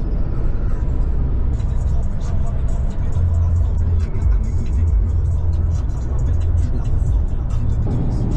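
A young Honda Civic driving on a road, its engine and tyre roar steady and loud throughout, with a faint voice under the noise.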